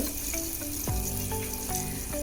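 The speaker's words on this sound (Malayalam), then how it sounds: "ഇത് നല്ല ഗോൾഡൻ ബ്രൗൺ ആവുന്നത് വരെ വറക്കണം" Grated coconut with crushed cardamom roasting in ghee, a continuous close sizzle and bubbling with a few sharp spoon scrapes against the pan, no talking.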